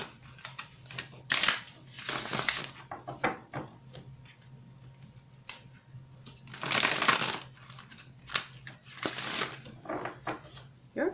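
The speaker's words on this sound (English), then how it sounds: "Your cards do not want to shuffle today." Tarot cards being shuffled and riffled in several bursts, close and crisp, with tapping and handling noises between them.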